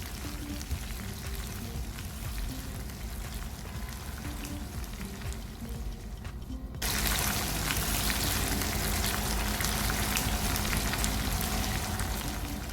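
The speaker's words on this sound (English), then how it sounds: "Add your onions and apple, and we're going to fry until it is slightly caramelized" Onions and apple frying in a pan for mackerel in tomato sauce, a steady dense crackling sizzle that grows noticeably louder partway through and continues without talk.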